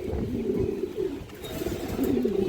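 A pair of Afsan Bagha pigeons, one female and one male, coo in low repeated throaty rolls that rise and fall close by over a steady background hum.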